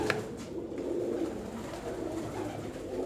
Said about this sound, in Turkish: Eski Aksaray'ın kuşları bunlar